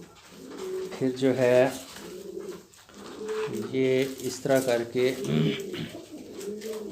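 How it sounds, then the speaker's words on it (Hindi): Sherazi pigeons coo in soft, repeated throaty rolls while someone talks steadily over them at close range. "ये मेरे शौक़ का कबूतर है"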